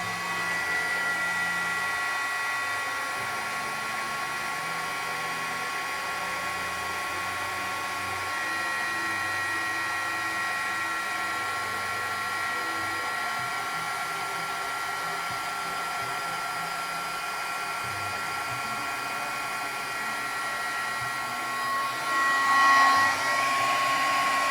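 Heat tool blowing hot air over a napkin and Sticky Bond for card making, a loud continuous whining drone that holds steady for over twenty seconds, close with no talking.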